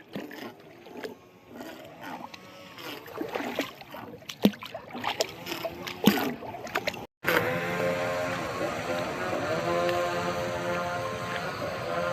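A homemade RC airboat runs on water, its buzzing motor rising to a steady, loud drone at full throttle after a noisy stretch of splashes, knocks and handling sounds nearby.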